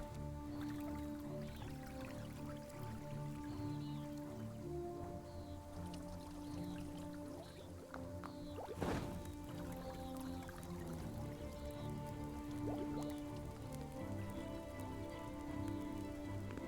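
Steady rain falls in the fantasy game Unexplored 2, a constant patter and drip over a layered ambient music bed, with one brief louder splash midway and no voices.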